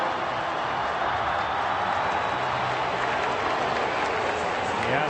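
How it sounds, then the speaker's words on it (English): Dense, loud crowd roar of Astros fans at a baseball stadium during Game 5 of the 2017 World Series, a steady wall of cheering and clapping throughout. "The Astros have brought the crowd back."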